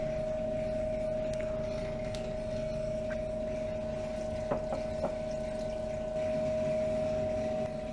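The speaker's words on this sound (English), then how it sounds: "While I'm waiting for this liquid to pull through the filter" Liquid drawn by suction through a lab filter produces a steady, even mechanical hum with a faint watery undertone. It holds constant throughout, with a few soft clicks midway.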